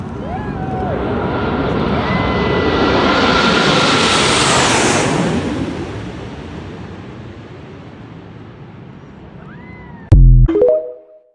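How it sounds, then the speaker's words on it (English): Planes flying overhead, a broad loud engine roar that swells and slowly fades away, ending with a brief sudden noise close by. "Oh, what are those planes doing?"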